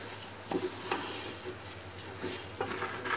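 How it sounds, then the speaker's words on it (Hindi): A spoon stirs rice into spice masala in a pot, giving scraping, patter-like strokes at an uneven rhythm over a steady low hum, up close and alone. "ये देखिए, थोड़ी सी देर आपने बस इसे राइस को मिक्स करना है"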